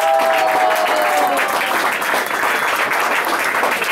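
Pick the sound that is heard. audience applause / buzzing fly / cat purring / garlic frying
audience applause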